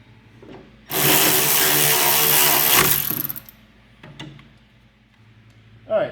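Power tool running brake caliper bolts down on a 2002 Pontiac Firehawk, one loud close burst of about two seconds followed by quieter clanks and handling.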